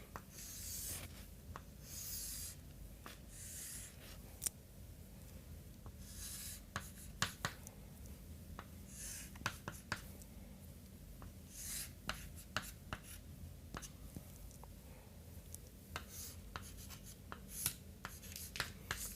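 Pen or pencil scratching on paper while a truss diagram is drawn by hand, with steady strokes and scattered taps close up and no talk.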